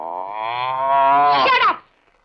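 A buffalo gives a single long, loud low, close by, its drawn-out tone rising and roughening toward the end before cutting off abruptly, with no talk over it.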